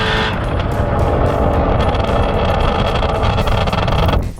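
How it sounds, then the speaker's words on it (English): A Ford Mustang GT350R roars past at high revs, a loud, raspy engine note that swells, holds steady, and then cuts off abruptly at the end. "The GT 350R has a big, powerful engine that makes an amazing sound."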